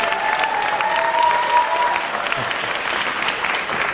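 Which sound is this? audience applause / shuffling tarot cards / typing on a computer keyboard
audience applause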